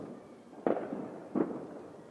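A fireworks battery packed in a large cardboard box fires off, giving two distinct booming pops about three-quarters of a second apart over a steady background rumble, moderately distant.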